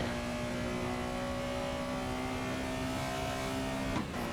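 Race car at Snetterton circuit accelerating hard onto the home straight, a steady loud engine drone with clear harmonic tones holding for several seconds before a brief break near the end.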